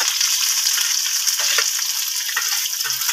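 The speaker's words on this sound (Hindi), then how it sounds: "प्याज को भी हम अच्छे से फ्राई कर लेंगे।" Onions fry for a chicken curry in a hot pan, a dense, continuous sizzle with crackling spatter and occasional stirring scrapes, close and fairly loud.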